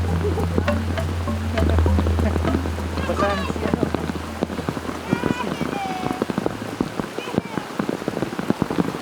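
Heavy rain pours down steadily outdoors in the Philippines, a dense, constant patter with scattered drops. Faint voices and small sounds come through underneath it.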